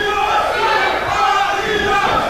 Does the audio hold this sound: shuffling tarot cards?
no